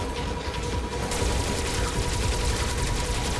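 Rapid weapon fire in the video game Metroid Dread, a dense, continuous burst of shots and blasts filling the whole stretch at steady loudness with no pause.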